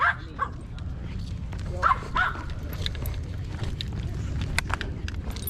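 Several dogs on a hiking trail in Fryman Canyon give short yips and barks in bursts, some whimpering, over steady outdoor background noise.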